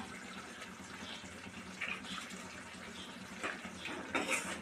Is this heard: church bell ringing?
no